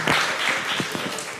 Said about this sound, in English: And applause to the group who just figured this out on their own.